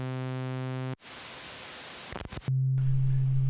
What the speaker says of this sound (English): The sawtooth output. This is much cleaner, obviously,